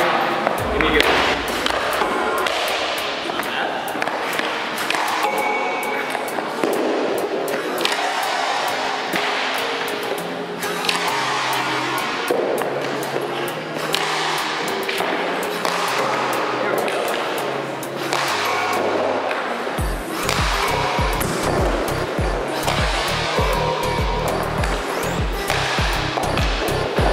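Hockey pucks struck repeatedly with a stick during shooting practice in a training facility, a run of sharp slaps and clattering thuds at an irregular pace, with a person talking throughout.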